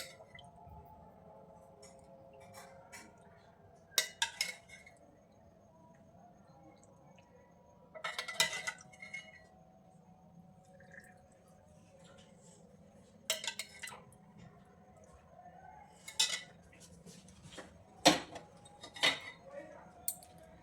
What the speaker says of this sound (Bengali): গরম গরম দুধগুলো এক চামচ করে সব কাপে এক চামচ করে আগে দেবো